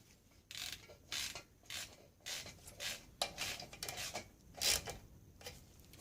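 A ratchet tightens bolts on a Citroën Dyane engine in a series of close, quiet bursts of clicking, each lasting under a second, with short pauses in between.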